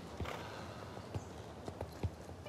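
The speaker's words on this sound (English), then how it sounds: "And here's the canter, and I think it is so cute" Hoofbeats of a starter horse cantering in the online game Star Stable Online, a steady three-beat clip-clop of soft thuds repeating at an even pace, moderately close over a faint background hum.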